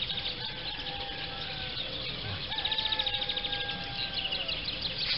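Birds singing outdoors in a quiet natural setting, several thin whistled chirps and warbles over a soft steady background hiss, fairly distant and faint, with no talking.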